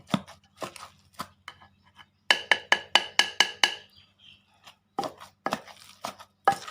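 Fermented fish chili paste (jaew pla daek bong) pounded in a mortar with a pestle: irregular thuds, then a rapid burst of about eight sharp even strokes, then more scattered hits, close and loud with no talk.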